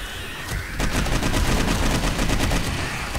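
Automated turrets firing in the game 7 Days to Die with the Darkness Falls mod, a loud, dense run of rapid gunshots that starts abruptly and continues steadily at a fast rhythm throughout.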